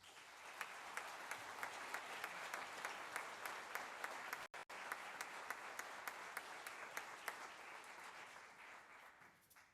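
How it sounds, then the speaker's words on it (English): An audience at the Lake High School jazz band spring concert applauds steadily for nearly ten seconds, a full, even roar of clapping with a brief dropout partway through and a slight fade at the close. "One more round of applause"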